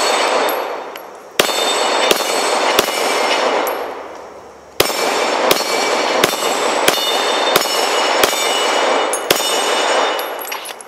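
Glock 17 Gen 4 pistol shots crack loudly and sharply, about ten single reports at irregular intervals, each with a ringing tail and echo.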